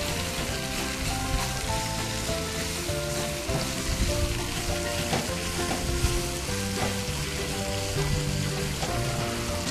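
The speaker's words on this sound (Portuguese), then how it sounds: "E eu vou dourar bem essa cebola." Chopped onion browns in a hot pan with a bay leaf, giving a steady, loud, close sizzle and crackle with occasional stirring scrapes throughout, no talking.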